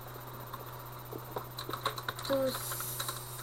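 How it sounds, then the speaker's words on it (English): Scattered keystrokes on a computer keyboard during a Minecraft server session, irregular soft clicks under a steady low hum, with a brief word spoken partway through. "God, I'm bad at typing."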